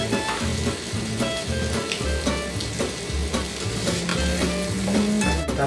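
Ginger sautéing in a pan as the first step of blue crab cooked in coconut milk with chili and pechay, a steady close sizzle with stirring clatter throughout and no talking.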